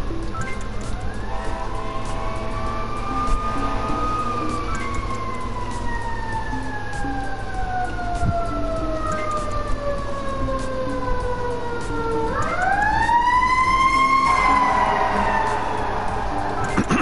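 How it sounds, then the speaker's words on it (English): An emergency vehicle siren wails and sweeps up and down in pitch, fairly loud and steady over background traffic, then rises sharply again as it passes close by. "Wouldn't be a stream without sirens."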